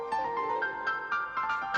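A melodic electronic ringtone plays a repeating pattern of bright notes, clear and alone without any talking.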